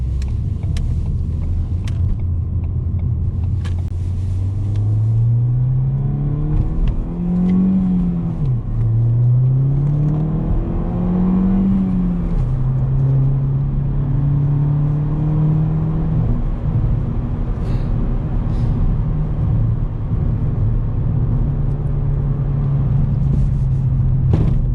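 Ford Fiesta ST engine heard from inside the cabin during a U-turn and drive, with a steady loud rumble, revs rising and falling through gear changes, then a sustained cruise drone.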